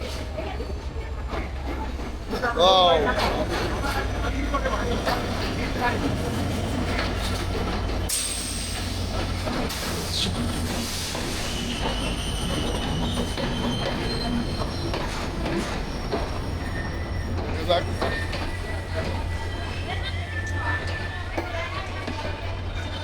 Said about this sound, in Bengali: হয়তো ট্রেনের শব্দ শুনতে পাচ্ছেন, এই দেখেন